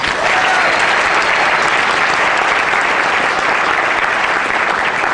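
An audience applauds steadily at a school band concert, with dense, even clapping that fills the room and holds for the whole stretch without fading.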